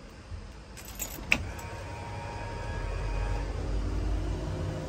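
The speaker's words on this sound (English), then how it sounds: "That's the blower motor. So the blower motor does work." Car blower motor whirring steadily inside the cabin, a low broadband hum that grows slightly louder, with a few jangling key clicks near the start.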